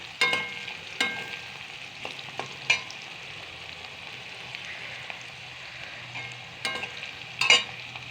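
Onions fry in a pan with a steady, moderate sizzle, broken by a few spatula scrapes and knocks at irregular intervals.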